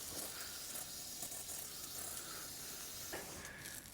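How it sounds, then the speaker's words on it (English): TF90 fast-drying cleaning solvent sprays onto a rebuilt engine as a steady close hiss with a few brief pauses. "for that, I'm using this TF90 fast drying cleaning solvent"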